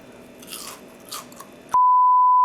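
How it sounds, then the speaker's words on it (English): Deep-fried tater tots dipped in ketchup are bitten with a couple of soft, crisp crunches up close, then a steady electronic beep cuts in and holds to the end. "The crunch with the ketchup is everything."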